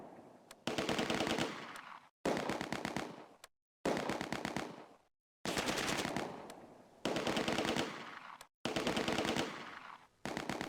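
Machine-gun and rifle bursts from the World War II video game Close Combat: A Bridge Too Far rattle in repeated loud salvos, each lasting a second or two and separated by short silences.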